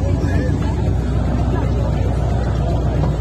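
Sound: V8 car engine arriving

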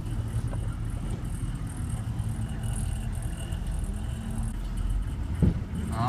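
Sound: diesel snow plow truck turbo running

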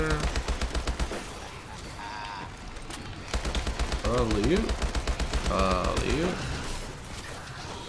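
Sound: gunfire at zombies in video game Advanced Warfare Exo Zombies

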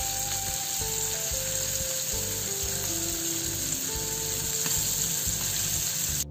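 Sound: pomfret fish frying in a pan

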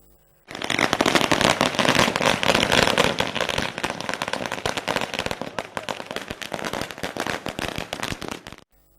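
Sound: firecrackers set off to welcome a politician

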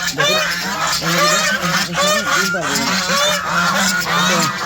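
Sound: chicken

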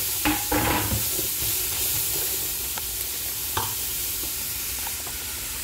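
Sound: sautéing frozen saluyot leaves with coriander in a pan

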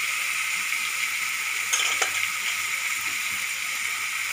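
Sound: dry spices sizzling in oil with rice pulao

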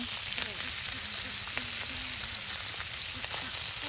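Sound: fish frying in oil with onion and garlic

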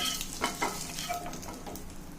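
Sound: frying prawns and curry leaves in a pan

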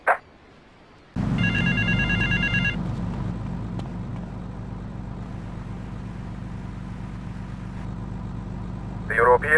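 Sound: payphone ringing near mall in video game GTA Vice City

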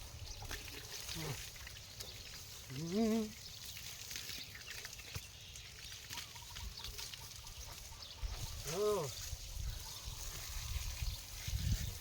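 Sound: water poured while bathing

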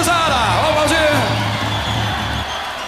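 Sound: crowd applauding and cheering at live show

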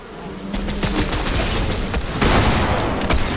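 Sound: bee buzzing as it is shot in a video game

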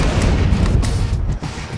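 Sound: explosions from bombardment in video game Chaser

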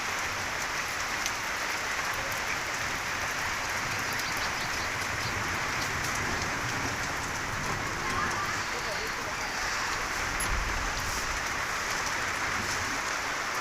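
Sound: rain

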